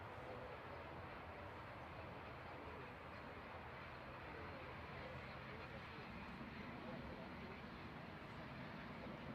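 A TUI Boeing Dreamliner taxis at Manchester Airport, a steady, broad, distant jet rumble and hiss that holds constant throughout, with people talking over it.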